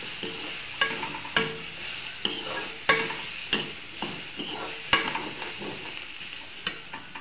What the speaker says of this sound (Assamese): তাৰপৰা এতিয়া আকৌ ভালদৰে লৰাই দিম।